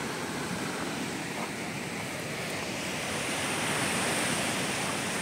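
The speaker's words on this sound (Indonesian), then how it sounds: "Ombaknya lagi besar." Large ocean waves surge against a rocky reef shore in Bali at high tide, a loud continuous roar of surf and spray with steady wind noise and no voices.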